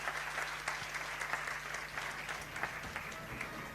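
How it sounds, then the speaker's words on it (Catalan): Audience applause at a school science contest awards ceremony, honouring finalists: a steady wash of many hands clapping at moderate distance, even and sustained, with a low hum underneath. "Un aplaudiment per ells perquè han sigut finalistes igualment."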